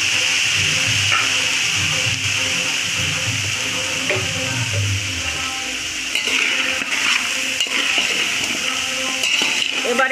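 Mixed vegetables fry in a pan for veg biryani, a steady broad hiss and sizzle that holds throughout, with faint scraping and clinking from the pan over the sizzle.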